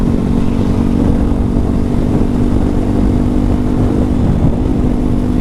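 A motorcycle cruises along an empty road at steady speed, its engine a loud, continuous droning hum mixed with wind rush, with no other traffic standing out.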